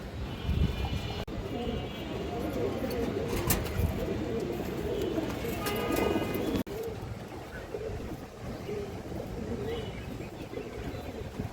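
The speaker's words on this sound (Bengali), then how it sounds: "খুবই সুন্দর একটা নর কবুতর, মাশাআল্লাহ" A male pigeon coos in low, repeated throaty phrases close by, under someone talking and faint background bustle.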